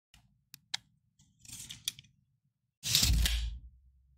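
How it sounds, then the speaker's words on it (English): A tape measure being pulled out and retracted up close, a few faint clicks and rustles followed by one loud, roughly second-long zip and snap with a low thud, no voice present. "That was the sound of a tape measure."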